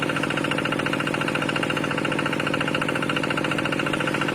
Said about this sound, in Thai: เครื่อง11แรง มาดู รอบเครื่องยังปกติอยู่